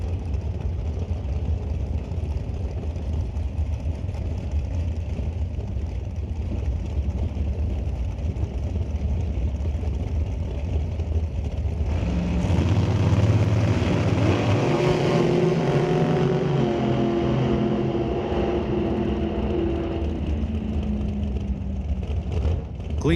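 A 468 big-block Chevy drag car and a 2016 dragster launch together at a drag strip, a steady idle rumble giving way to a loud, rising roar as both accelerate hard, then fading as they pull away.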